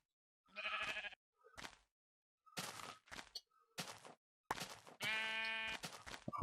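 Minecraft sheep bleat in several short separate calls, one longer harmonic bleat near the end, with brief blocky game sounds in between and no talking.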